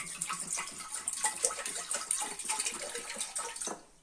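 Water splashes and gurgles steadily into a metal pressure cooker holding carrots, a continuous pouring that tapers off at the end.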